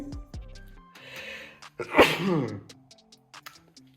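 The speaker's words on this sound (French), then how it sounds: "j'éternue" A single loud, close sneeze bursts out midway through, the sharp explosive release followed by a brief trailing breath, with speech before and after it at a desk setup.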